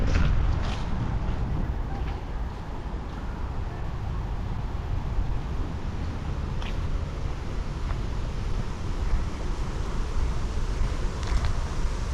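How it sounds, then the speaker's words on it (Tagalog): Strong, cold autumn wind roars steadily and loudly against the microphone in New Zealand, a dense low rumble with no pauses. "lamig dito lakas ng hangin no?"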